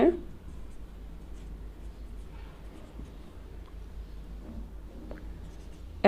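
A pen writing out a math problem on paper, producing faint, continuous scratchy strokes at close range, with a brief louder sound at the start and end.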